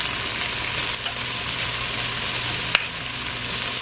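Okra fries in oil in a pan, giving a steady, close sizzle with a couple of faint clicks from stirring.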